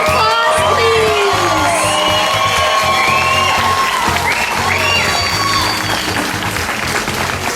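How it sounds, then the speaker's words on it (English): Audience at a Cordero Middle School class of 2021 moving-up ceremony applauds and cheers loudly for the graduating class, with whoops and children's shouts rising over steady clapping throughout. "Give them another round of applause, please."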